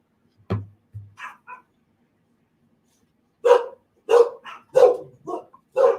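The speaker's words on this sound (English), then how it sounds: "My dog's going nuts." A dog indoors gives a couple of low woofs, then a run of loud, sharp barks close by in an irregular burst.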